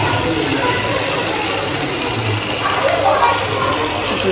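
Hot water pours steadily into a pan of Kolhapur-style crispy chicken gravy, a continuous rushing, gushing wash that stays even and fairly loud from start to finish.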